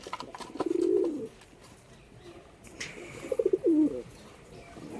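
Adult pigeons cooing, two low throaty bursts a couple of seconds apart, close by, with faint background noise.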